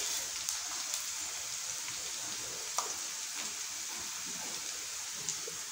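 Onions and a light mix of spices fry steadily in hot oil, a soft, continuous sizzle with occasional sharp pops and spatters, heard close and without talk.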